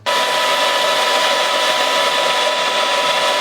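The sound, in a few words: hair dryer running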